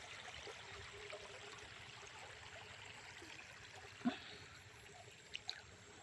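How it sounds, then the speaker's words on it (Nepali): Rainwater runs across flooded village fields and terraces after a night of heavy rain, a faint, steady trickling wash with a brief louder splash near the end. "त्यसरी पानी बगिरहेछ।"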